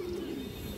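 A lively domestic pigeon gives a short, soft low coo, faint against background noise.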